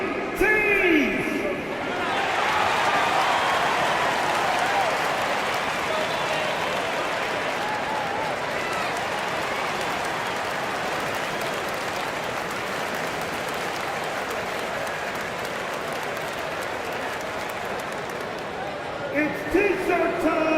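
A basketball arena crowd cheers and applauds during a timeout in a Pistons versus Bucks game, a dense, sustained roar of clapping and whoops that fills the space, with an announcer's voice heard near the start and end.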